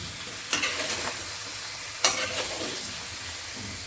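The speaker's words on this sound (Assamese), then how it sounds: "মছলাখিনি এতিয়া ধুনীয়াকৈ এবাৰ লৰাই দিছোঁ" Spice masala stirred in a hot pan for pumpkin pickle, a low constant sizzle broken by two distinct scraping stirs of a spoon against the pan.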